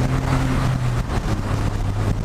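Turbocharged engine of a Smart Roadster Brabus pulling under acceleration, a loud, steady low drone with a sustained tonal hum that holds close and continuous, no voices over it.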